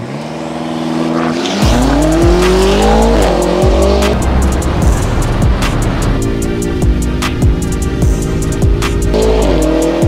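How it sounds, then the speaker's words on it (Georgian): A BMW M5 F90 and a Tesla launch side by side in a drag race, with loud engine revving climbing through the gears, tire squeal and rushing noise, close and intense throughout. "ეს იყო იდეალურად დაძრული ორივე ავტომობილი ზუსტად ერთნაირად დაიზრა"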